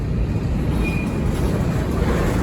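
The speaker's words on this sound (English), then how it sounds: "Literally standing this close to the train." A freight train rumbling past very close by during railfanning in Memphis, Tennessee, with a former BNSF SD40T locomotive, a loud, steady low roar of wagons and wheels with a brief faint squeal, no talking.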